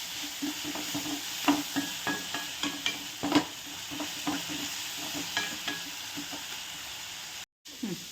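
Onions frying in a pan while being stirred, a steady close sizzle broken by repeated scraping stir strokes, with a brief dropout near the end.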